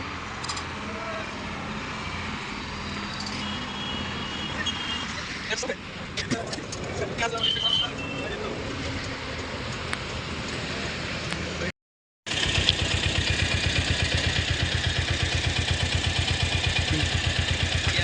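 A Cruiser vehicle's engine runs steadily, a rough mid-pitched drone with traffic-like clatter and voices in the first part, then a brief dropout before a louder, closer, evenly pulsing idle.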